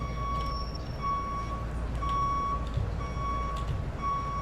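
Repeated vehicle reversing beeps in the video game EmergeNYC, steady evenly spaced electronic tones over a low engine rumble, fairly quiet.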